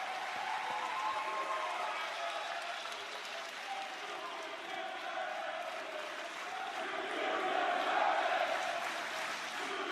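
A wrestling arena crowd roars continuously, a dense wash of cheering and clapping that swells louder near the end, with no clear single voice standing out.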